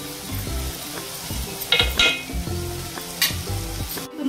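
Village chicken frying and sizzling in hot oil in a pan, with steady crackle, stirring scrapes and occasional clinks of a utensil against the pot, close and continuous.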